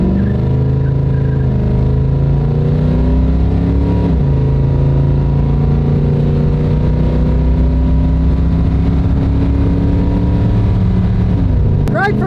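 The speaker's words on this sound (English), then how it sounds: "Nothing beats that V8 sound." An old Chevrolet El Camino V8 pulling hard on a drag strip, a loud, droning engine note that rises, steps down at a gear change and holds, close and continuous, with a voice speaking over it.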